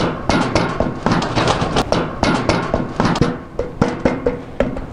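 An end cap being tapped onto an AGCO Dynaflex AWS airbar manifold, a loud close series of sharp hammer-like knocks in an uneven rhythm with ringing metallic overtones.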